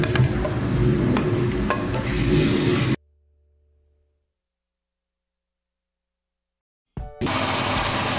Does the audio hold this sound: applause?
no